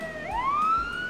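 A wailing emergency siren rising in pitch, a fire truck siren sounding close and clear for about a second.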